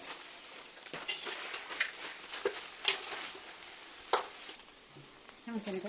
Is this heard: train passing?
no